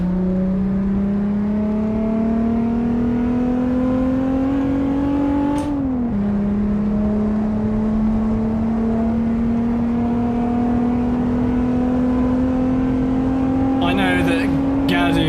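A car engine in a racing video game holds a steady drone and climbs slowly in pitch, with one brief dip partway through as if shifting gear.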